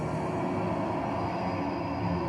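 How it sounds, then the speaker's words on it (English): A train sound effect from Kraftwerk's Trans-Europe Express track: a continuous rumbling rail rush with metallic clatter, dense and steady from start to end, no talking. "That's a cool train sound."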